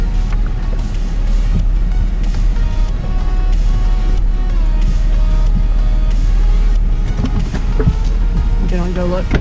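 A Jeep grinds slowly along a rough dirt road in four-wheel low, its engine drone steady and loud while the body jolts and rattles over bumps, with people talking inside over the noise.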